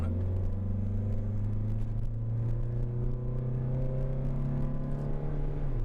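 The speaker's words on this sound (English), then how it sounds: "You can hear a lot of that coming back into the cabin because that airbox is open." Third-generation Acura Integra LS engine with an open airbox, its intake drone steady and fairly loud from inside the cabin, a continuous hum with slowly shifting pitch and no voices.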